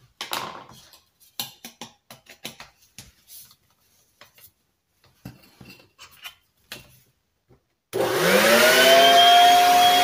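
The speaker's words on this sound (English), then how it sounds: "the vacuum will suck the dust in" A vacuum cleaner switches on after a stretch of scattered knocks and clatter, then runs loud and steady sucking dust from a refrigerator, with a rising whine near the end.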